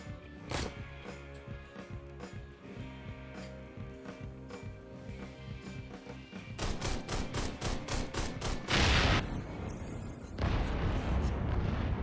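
Explosions and gunfire in the video game Ride to Hell: steady mechanical clatter gives way to rapid, dense bursts of loud blasts and shots that intensify toward the end.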